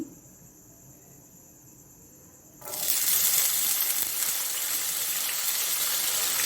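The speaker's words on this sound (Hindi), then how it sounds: "अब मैं इसमें किशमिश डालूंगी" Raisins dropped into hot oil in a pan for Kabuli Afghani pulao: a quiet stretch, then a sudden loud, close sizzle that bursts up and holds steadily to the end.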